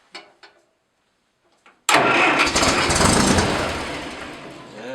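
Massey Ferguson MF 65 tractor engine cranking briefly and firing up at -5 degrees with choke, then settling into a loud, steady close-up idle after a few faint clicks.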